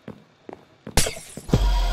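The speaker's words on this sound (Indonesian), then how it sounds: "Kacanya pecah." Glass shattering in the video game Minecraft Education: a few soft footstep taps, then a loud, bright crash of breaking glass followed by a second crunching break and lingering debris noise.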